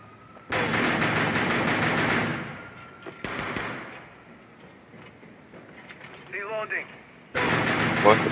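Bursts of automatic gunfire in a Rainbow Six Siege Tower team deathmatch bomb round, two long loud rapid volleys with a shorter burst between and another starting at the end, with quieter game sounds in the gaps.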